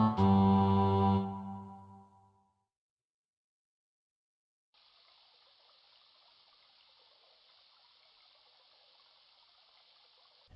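Water sloshes steadily as a character wades through a stream in the King's Quest I computer game. A brief louder tone plays first, then a gap, then a continuous soft trickling wash to the end.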